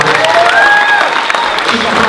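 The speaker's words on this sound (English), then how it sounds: "Can we give her a round of applause?" A short burst of audience clapping, dense and loud, with scattered cheers mixed in.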